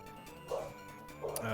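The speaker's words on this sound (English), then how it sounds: "Dog's Borkin." A dog barks and yips twice in short bursts, moderately close, over a steady background of video game music.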